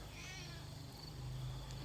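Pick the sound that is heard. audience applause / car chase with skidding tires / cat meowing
cat meowing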